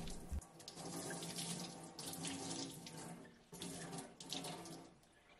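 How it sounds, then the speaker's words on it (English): Water pours and splashes steadily into a basin as wet yarn skeins are squeezed out, a continuous trickling rush with brief gurgles and drips, close and fairly soft. "we're going to pick up all the skeins and slowly squeeze out the water"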